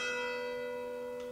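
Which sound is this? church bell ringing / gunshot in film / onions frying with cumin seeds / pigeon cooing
church bell ringing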